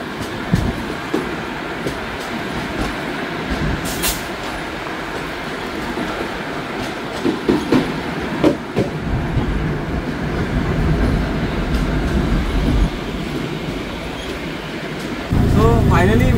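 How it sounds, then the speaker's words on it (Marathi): A Konkan Railway passenger train on a festival journey home, with a steady rolling rumble and wheel clatter throughout and a louder low rush near the end. "क्रॉस झाली, आता आपली ट्रेन जाईल त्या साईडला."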